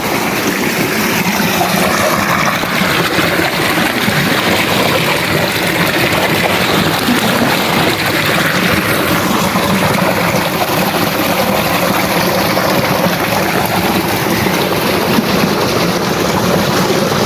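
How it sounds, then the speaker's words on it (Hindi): Water flows steadily through a village in the early morning. A continuous, loud rushing wash holds evenly for the whole stretch, with no voices. "और ये पानी चल रहा है, ये देखिए"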